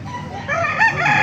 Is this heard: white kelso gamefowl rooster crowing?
yes